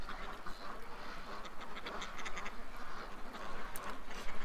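Ducks quack in a loose chorus of short nasal calls, fairly quiet and a little distant, over a steady outdoor background hiss.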